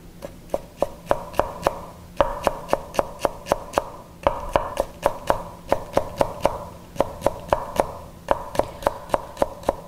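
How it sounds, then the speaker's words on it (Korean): A knife slices halved green onion into thin julienne strips on a cutting board, giving steady, rapid chopping taps in quick bursts with brief pauses, close and clear. "반을 갈라서 속을 제거한 후에 채를 썰어 줍니다"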